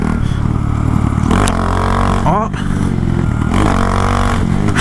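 Honda Grom motorcycle with a 17-tooth sprocket accelerating in second gear, a loud close engine drone rising in pitch with a brief dip, wind noise and a rider's short exclamation over it.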